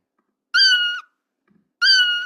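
Scratch cat meow sound effect played at a raised pitch, two identical bright, clean meows separated by a short silence, close and isolated.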